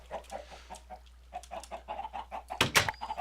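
Chickens in the Minecraft video game, sitting on a hopper in an automated farm, give short soft clucks and fowl calls scattered through the stretch, faint, with a louder burst near the end.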